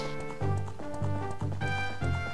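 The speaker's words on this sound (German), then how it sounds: "Leider können wir Epona nicht in den Wald mitnehmen." Galloping hooves of the horse Epona in The Legend of Zelda: Ocarina of Time 3D, a steady repeating clip-clop rhythm with strong low thumps about every half second over game music.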